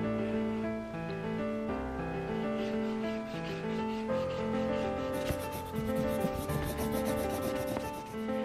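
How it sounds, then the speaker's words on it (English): Leather belt edges are burnished by steady rubbing, a continuous rough friction sound running under music throughout, with no talking. "I'm going to burnish the edges, but I'm not going to bevel them."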